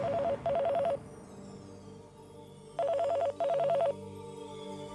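A telephone rings in two pairs of electronic trills, with a short pause between them over a low background hum.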